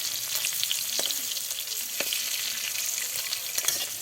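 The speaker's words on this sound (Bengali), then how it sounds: "ডিমগুলো উল্টে উল্টে দিচ্ছে, একটু সুন্দর ভাজা ভাজা কালার চলে আসলে তুলে নেবে।" Boiled duck eggs fry in hot oil while being turned, with a loud, busy, close sizzle and small spattering pops throughout and no speech.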